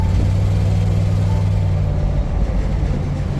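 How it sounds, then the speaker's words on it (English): The engine of a 50-year-old Ford camper rumbles continuously with a low, even drone, fairly loud and close, without talk. "And the engine even sounds happy."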